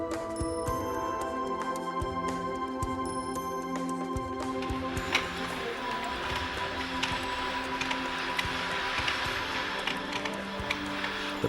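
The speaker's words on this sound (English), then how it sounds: "The primitive winding machine still works today" A primitive silk warp winding machine runs with a steady rhythmic mechanical clatter and whir, continuous and close, with a few sharper knocks and no voices.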